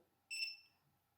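A continuity tester gives one short, faint, high electronic beep as its probes touch the pins of a chip on a ZX Spectrum diagnostic cartridge. The tone lasts about a quarter second against near silence.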